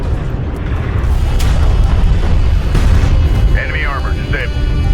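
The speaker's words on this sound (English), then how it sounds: "Enemy railgun firing on friendly." Heavy railgun fire and deep booming explosions rumble through a desert battle in a real-time strategy game, loud and continuous, with a voice speaking over the din.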